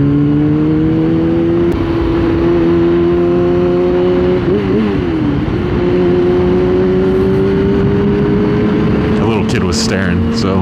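A car engine revving up close, a loud sustained drone that climbs steadily, wavers and dips midway, then rises again, with some rattling near the end.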